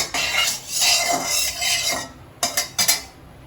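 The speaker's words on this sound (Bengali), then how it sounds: "এবার আলুটা ভেজে নিচ্ছি।" Potatoes fry in hot mustard oil in a pan, a steady close sizzle broken near the end by a few sharp metallic scrapes and knocks of a utensil against the pan.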